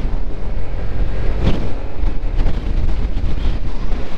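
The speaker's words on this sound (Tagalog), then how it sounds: "Tinatangay pa tayo ng hangin." Strong wind buffets the microphone during a ride on a mountain road, a loud gusting roar that rises and falls in bursts for a few seconds with no talking.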